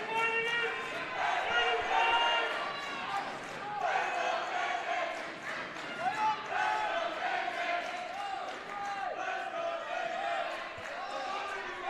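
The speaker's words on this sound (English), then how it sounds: "Brockton team respects him as a captain," Brockton High School wrestling team and crowd cheering and chanting for their wrestler JJ during a match against Franklin, a loud continuous roar of voices with rising shouts, echoing in a gym.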